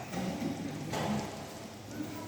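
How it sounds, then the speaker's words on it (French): Faint, steady rain patters softly and continuously, with no other clear sounds. "Il pleut."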